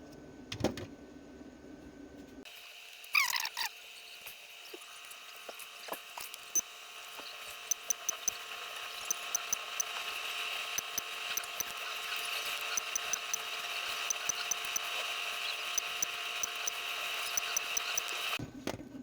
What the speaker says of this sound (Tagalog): Dito naman natin spot weld.